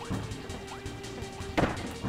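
A heavy booming cannon blast in Kirby Star Allies hits once near the end over steady background game music and effects, with a lighter thump just before.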